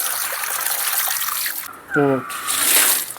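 Running tap water pours and splashes steadily as freshly gathered orithal thamara plants are washed of dust and mud, with a brief tonal clatter midway as they are rinsed under the stream.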